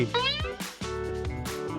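A cat meows twice in quick succession, close and fairly loud, the first call rising and the second longer and drawn out, heard alone without speech.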